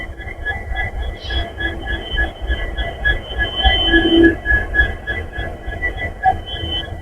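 A train pulling away from Hospet Junction station: a low rolling rumble with a steady tonal hum from the coaches, rising slightly in intensity midway, heard from inside the train.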